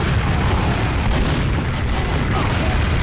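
Constant loud gunfire and booming explosions fill a Team Fortress 2 match, a dense, unbroken barrage of shots throughout.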